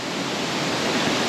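Minnehaha Falls gives off a steady, dense rush of falling water, a broad even roar that does not change over the short stretch. No voices are heard.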